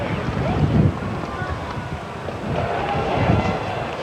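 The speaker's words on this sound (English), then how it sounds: "The wind has picked up substantially here now." Strong wind gusting at an outdoor football stadium during a CFL game, roaring steadily into the microphone as a low rumbling buffet, with gusts swelling and easing across the clip.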